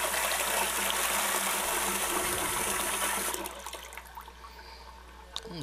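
Water runs steadily from a bathroom sink faucet on a wall-hung sink under repair, a loud continuous gush for about three seconds that then cuts off, leaving faint handling noises.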